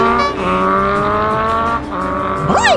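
Cartoon motorbike speeding, a loud sustained engine whine holding steady pitch then rising with a sweeping, squealing swoop at the end, with no voices over it.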